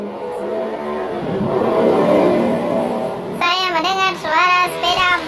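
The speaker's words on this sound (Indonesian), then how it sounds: "Saya mendengar suara sepeda motor." A motorcycle engine in the mobile game PUBG Mobile revs and drones, swelling louder mid-way. Then a voice starts talking over the fading engine noise.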